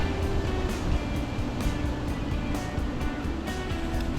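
Sea waves wash in a constant broad roar along the coast, with soft rhythmic surges of surf and no voices.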